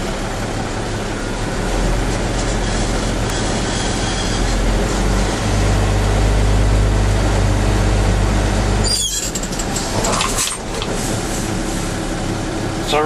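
A Class B truck with air brakes rolls forward and stops on the service foot brake, its engine rumbling steadily with a low drone and a short hiss near the end as it halts.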